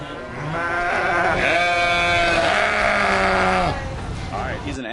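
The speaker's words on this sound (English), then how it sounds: "he's an angry sounding goat" An angry-sounding goat bleats in a played-back recording, one long wavering, strained bleat swelling loud through the middle and then trailing off near the end.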